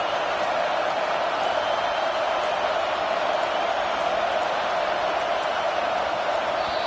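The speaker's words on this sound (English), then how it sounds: "This crowd trying to make life miserable for this offense." Steady roar of a stadium crowd at a college football game, Nebraska versus Michigan State, a dense continuous wash of noise with no distinct cheers standing out, loud and unbroken as the crowd pressures the offense.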